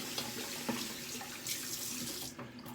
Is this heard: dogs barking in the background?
no